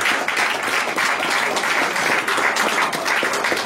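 A church congregation applauds at a Pentecost service in Rennes, sustained, dense clapping from many hands filling the room at a steady, loud level throughout.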